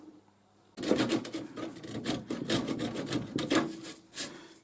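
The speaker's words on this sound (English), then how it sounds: "So I'm just scraping out the bits and pieces under these lips." A hand scraper works loose paint from under the lips of a copper lamp post top, making close, rough rasping strokes in an uneven rhythm after a quiet start.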